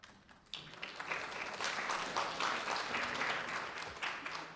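Audience applause at an early care and education policy conference in California, a dense steady clapping that starts abruptly after a brief quiet moment and holds at full strength for several seconds.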